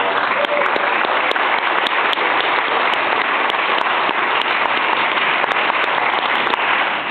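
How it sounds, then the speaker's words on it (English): A cinema audience at a film-noir screening gives the organist a round of applause, a dense, loud, continuous wash of many hands clapping that holds steady throughout, with some voices beneath. "Let's give him a round of applause"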